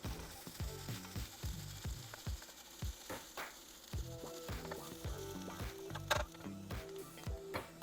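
Prawn puttu (eral puttu) being stirred and dry-roasted in a pan, with a steady sizzle broken by repeated scraping strokes of a spoon in an uneven rhythm, close and moderately loud, no talking.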